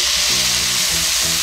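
Sake, mirin, soy sauce and sugar hit a hot pan of pork and onion over medium-low heat, giving a loud, continuous sizzle and bubbling with stirring underneath.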